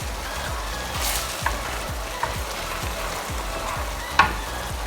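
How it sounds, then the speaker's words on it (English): Lasagna ragu sauce simmering in a pan on low heat, a thick sauce popping in soft, regular low bubbles under a faint hiss, with a few sharper clicks, close and with no talk. "our ragu, our lasagna sauce has been cooking for about 10 minutes, and this is exactly how it looks"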